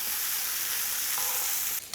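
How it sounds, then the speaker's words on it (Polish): Steady, loud sizzling of mushrooms frying in a pan, a continuous hiss with a brief clatter near the end. "Kiedy grzybki nam się smażą"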